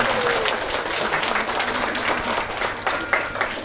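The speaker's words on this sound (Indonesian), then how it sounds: "Tepuk tangan buat anak-anak kita." A crowd at an Islamic sermon gathering claps for the children, a steady burst of applause with a few sharper claps near the end and some background voice.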